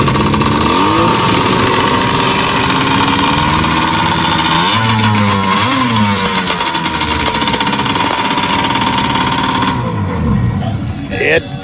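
Vintage snowmobile engine running hard and revving up to about 7,500 RPM, loud and close with a steady buzzing roar that ends with a sudden drop, voices faintly underneath.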